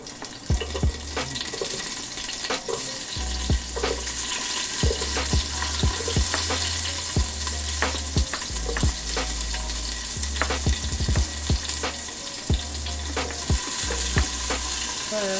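Shallots sizzle and fry steadily in a pan for a meatball sub, with repeated scraping stir strokes and a running tap or water splashing underneath, continuous and close throughout.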